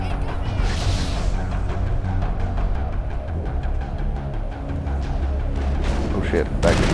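Continuous loud gunfire and explosive bursts from a Mass Effect firefight, a thorium grenade blast among them, with dense crackling impacts and a sharp bang near the end.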